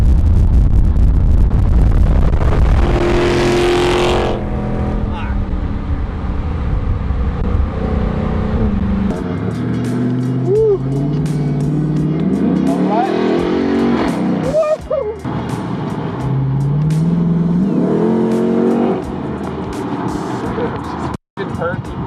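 A Chrysler 300 SRT8 engine roars loudly for most of the stretch, with rising and falling rev sweeps and a rumbling idle between bursts, while people talk and exclaim over it.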